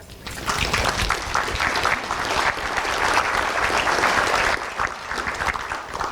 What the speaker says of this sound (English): I'd ask you to give yourselves a big hand of applause.